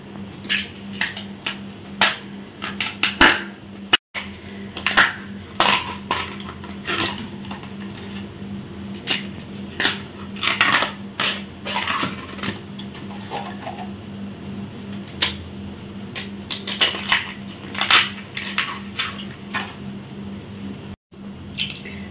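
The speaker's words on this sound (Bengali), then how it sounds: "তো প্রথমে এই বাঁশের কোরকে এই ছালগুলোকে আমি ছাড়িয়ে নেব।" Skin being peeled by hand off bamboo shoots, a string of sharp snapping cracks and crisp tearing clicks at irregular intervals, close and distinct over a low steady hum.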